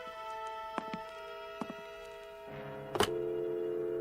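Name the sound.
telephone being dialed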